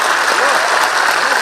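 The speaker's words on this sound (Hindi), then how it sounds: "एक बार जोरदार तालियां इनके लिए बजाओ" An audience gives loud, continuous applause at a coaching institute event, a dense wash of clapping with a voice faintly audible beneath it.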